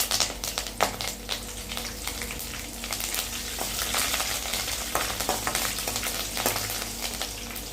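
Chana dal, urad dal and green chilies fry in hot oil for coconut rice, giving a steady close crackling sizzle with scattered sharp pops and a low hum underneath.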